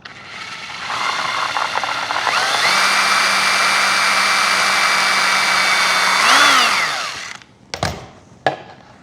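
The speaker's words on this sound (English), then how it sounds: "I drilled the same side. I made a second hole on the same side." Power drill boring holes during a 1.6 m Fi 186 Storch model aircraft build, a steady whine running for several seconds that rises in pitch before stopping, followed by a couple of sharp clicks.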